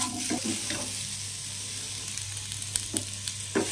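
Ingredients for a paneer curry, cashews among them, fry in a pan with a low continuous sizzle, while scattered clicks and light knocks of stirring come through close by.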